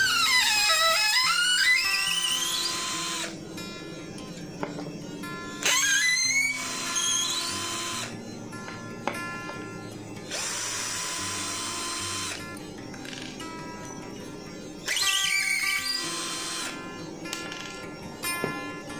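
A Total TDLI12325 12V cordless drill drives screws, including a 3-inch one, in several separate bursts. Its motor whine climbs in pitch as each burst starts, and short pauses fall between them, close and loud with no talk.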